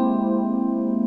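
A single dense, dissonant orchestral chord is held steady for about a second, with a harsh buzz from muted brass. It is loud and sustained, with no voices.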